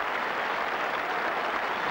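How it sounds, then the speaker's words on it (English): Sustained applause from a cricket crowd at Trent Bridge during an England v Australia Test match in 1989, greeting Robin Smith's century; a steady, dense wash of clapping with no break. "applause from the crowd"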